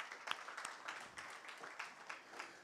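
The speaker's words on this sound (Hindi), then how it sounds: "ताली हो जाए इस बात पे" Audience at a GEMA gathering applauding a speech, scattered, fairly quiet clapping with distinct individual claps rather than a dense roar, lasting the whole moment.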